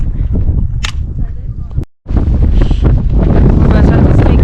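Strong gusts batter the microphone on an exposed mountain path in Cradle Mountain National Park, Tasmania, a loud roaring buffet that drops out briefly and then surges back.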